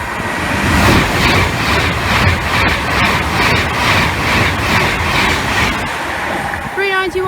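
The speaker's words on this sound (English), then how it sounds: "we've got a Class 390 passing by now" A Class 390 train on the West Coast Main Line at Cheddington rushes past nearby with a loud sustained roar and rhythmic wheel clatter over the rails, fading slightly toward the end as a short horn tone sounds.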